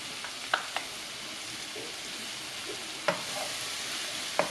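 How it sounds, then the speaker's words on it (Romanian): Sliced leeks fry in hot oil in a pan with a continuous bright sizzle, and a spoon scrapes and taps against the pan a few times as they are stirred. No one speaks. "Punem ulei într-o tigaie și așteptăm să încingă. Când s-a încins, adăugăm prazul."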